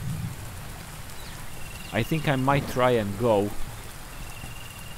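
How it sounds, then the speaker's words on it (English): Steady rainfall in the survival video game Under A New Sun, a constant soft hiss across the whole clip while someone speaks briefly in the middle. "we have to wait for rain to stop and then we might see further away"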